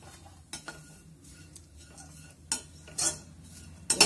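Grated coconut is lightly roasted in a kadhai, with a spatula stirring and scraping the metal. Quiet stretches are broken by a few sharp scrapes and clinks, the loudest near the end.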